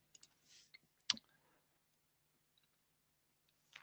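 A computer mouse clicks a few times, a sharp click standing out near the middle, with faint desk rustles around it in an otherwise quiet room.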